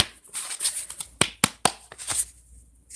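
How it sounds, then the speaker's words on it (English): Tarot cards being shuffled by hand, a run of papery riffles and flicks with several sharp card snaps standing out, close and fairly quiet, with no talking. "I'm gonna shuffle again."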